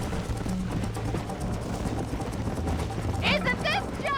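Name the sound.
horse hooves in Red Dead Redemption video game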